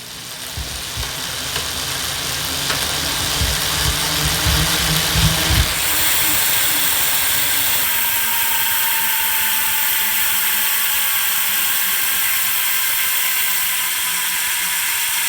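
A bicycle freewheel hub on a Reynolds carbon wheel clicks loudly in a rapid, continuous ratcheting buzz. The clicking is close and steady, with a shift in tone partway through as the spin changes; no voices.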